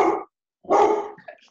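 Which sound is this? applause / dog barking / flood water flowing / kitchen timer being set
dog barking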